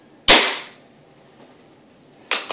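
A Hatsan 95 air rifle fires a pellet with one loud, sharp crack that rings briefly. A second, fainter crack follows about two seconds later, and there is no talking.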